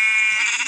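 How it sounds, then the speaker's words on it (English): One loud sheep bleat from a video game world, a short nasal wavering cry heard alone and up close. "there's many sheep"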